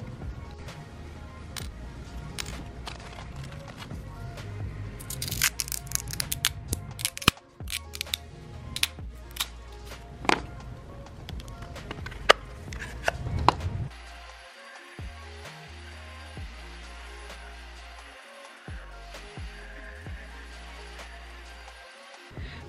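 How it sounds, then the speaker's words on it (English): A Kydex sheath is cut over its screws, a run of sharp, irregular snips and clicks close by for about fourteen seconds, followed by a quieter stretch of low mechanical hum. "I'm just going to cut it right over the screw so we don't have that problem."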